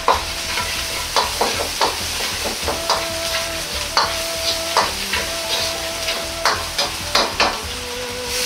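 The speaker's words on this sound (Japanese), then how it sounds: "にんにく生姜も入れて炒めます。" Garlic, ginger and doubanjiang sizzle in hot oil while a spatula scrapes and stirs the pan in a steady, repeated rhythm of sharp clacks over continuous frying, close and fairly loud, with no talking.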